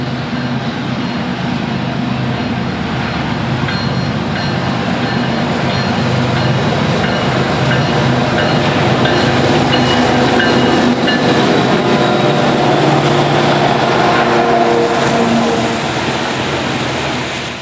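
A long freight train rolls steadily past on the Villa Grove Subdivision of Chicago's Union Pacific and CSX joint line, a loud continuous rumble and wheel clatter close by throughout.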